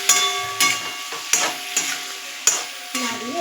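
A spatula scrapes around a pan of fish curry with potato and long beans and tomato cooked down in oil, giving about five sharp strokes under a steady sizzle of frying.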